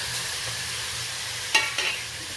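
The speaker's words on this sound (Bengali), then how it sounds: "কষানো মশলার সাথে ভালো করে আলুটা নেড়ে নিচ্ছি।" Fried potatoes are stirred into a sizzling spice paste in a pan for an egg and potato curry, with steady frying hiss and two brief scraping stirs near the end.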